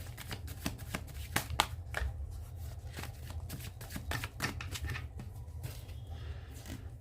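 Tarot cards are shuffled by hand in a rapid, rhythmic series of crisp riffles and soft taps. The sound is close and quiet, with no talking.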